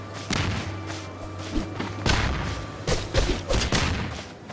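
Gunshots from a gun in the video game Cat Quest 3, a rapid series of loud thumping bursts and booms, some clustered into quick volleys, heard up close over a steady game hum.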